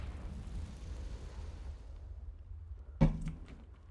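Confringo fire spell in Hogwarts Legacy, a single sharp explosive burst with a short rumbling tail after several seconds of quiet game ambience.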